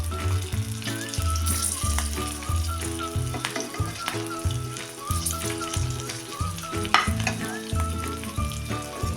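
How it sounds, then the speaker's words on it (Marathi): Stuffed masala green chillies fry in a pan while being turned, giving a steady loud sizzle with scraping stirs, alongside running tap water and light kitchen clatter throughout. "अशा उलटून पालटून आपण ह्या मिरच्या चांगल्या मऊ होईपर्यंत भाजून घेऊया."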